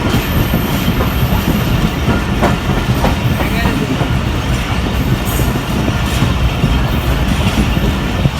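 A passenger train rolling into a Pakistan Railways station with loud, continuous rumbling and clattering wheels, close by and steady, with faint squeals over the rail noise.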